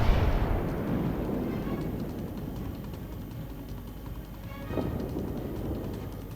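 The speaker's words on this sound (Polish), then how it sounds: "Strzał." A ship's main guns fire in the naval game World of Warships, aboard the battleship Georgia. A heavy booming blast opens the clip and fades into a rumbling tail, then a second, softer boom follows later.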